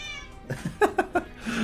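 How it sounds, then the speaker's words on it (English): A cat in The Sims 4 gives a short run of clear meows, three quick close calls in a row followed by a longer drawn-out meow. "Everyone say hello to your favorite kitty cat, Cleo."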